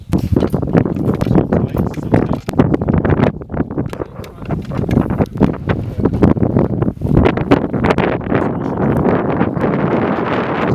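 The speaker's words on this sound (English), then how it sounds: "It's the wind coming." Strong wind gusting loudly at a small windmill on Scoraig, buffeting the microphone with continuous rumbling roar and rattling throughout.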